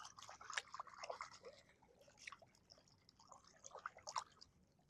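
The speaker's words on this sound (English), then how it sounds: "let's rinse this off." Water drips and trickles off a found object as it is rinsed at Long Hunter State Park, coming as faint scattered splashes and patters that are close but quiet, with no talk.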